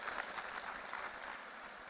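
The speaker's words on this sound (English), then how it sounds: "A round of applause once again for Priyankar Upadhyay, sir." A crowd at a media and communication school conference applauds a speaker: a brief, even patter of many hands clapping, fairly quiet and distant, with no voices over it.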